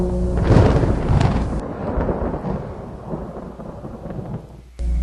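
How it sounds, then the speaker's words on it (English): A rumbling thunderstorm in the video game Zork Nemesis, with heavy low thunder and wind-like noise rolling steadily for several seconds, building early then settling into a continuous murky roar with no talking. "Heard a note and then what sounded like a thunderstorm."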